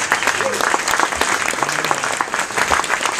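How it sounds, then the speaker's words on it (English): Wedding guests applaud the best man, the groom's brother, with sustained, dense clapping from a crowd that stays even throughout. Voices murmur faintly beneath it. "nice round of applause for the best man, brother of the groom"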